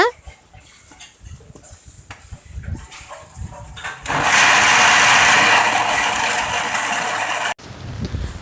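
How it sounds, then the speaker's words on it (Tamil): A mixer grinder grinds cotton seeds with water, whirring loudly and steadily for a few seconds, then cuts off abruptly; quieter clatter and handling noises come before it. "ஒரு மிக்ஸி ஜாரில் போட்டு நல்லா கிரைண்ட் பண்ணி எடுத்துக்கணும் நைஸாக"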